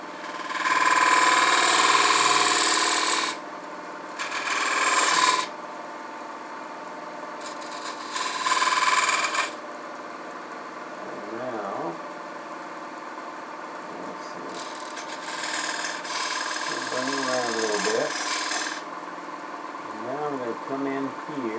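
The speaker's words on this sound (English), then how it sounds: "I want to mark that with this round skew" A round skew chisel cutting into wood spinning on a lathe, turning a bottle stopper display: loud, rough scraping bursts come in several separate passes over a steady motor hum, with quieter pauses between cuts.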